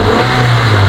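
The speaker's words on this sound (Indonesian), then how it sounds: "sekarang coba kita naikkan RPM-nya" Car engine revving hard toward high RPM, a loud, steady, close-up drone of rising engine pitch with no voices over it.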